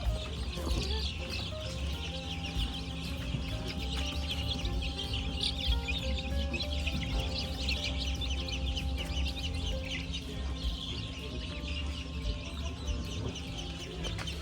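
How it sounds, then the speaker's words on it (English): Baby ducklings peep steadily in a crowded farm setting in Lancaster County, Pennsylvania, a dense chorus of thin calls over constant background noise and low hum. "I love all their little peeps that they're making."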